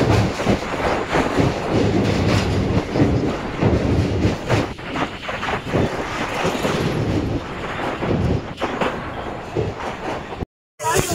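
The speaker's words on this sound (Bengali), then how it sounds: "আমাদের ট্রেন এবার চলে আসলো ধুবুলিয়া।" A Sealdah to Lalgola passenger train rolls along with a steady, loud rumble and wheel clatter heard from inside the carriage, continuous throughout, with faint background voices and a brief dropout near the end.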